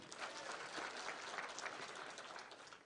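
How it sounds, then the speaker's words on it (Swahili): An audience claps together at a public gathering, a steady patter of applause that sounds fairly distant and soft and fades slightly toward the end. "Tumpigie makofi."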